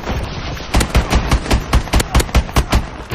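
Rapid bursts of gunfire from a weapon in Call of Duty Advanced Warfare, about a dozen loud, close, evenly spaced shots in quick succession, with no talking over them.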